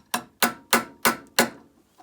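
An ER32 collet chuck drawbar is tapped out with five sharp, evenly spaced metallic hammer knocks, close and loud, followed by a fainter sixth tap.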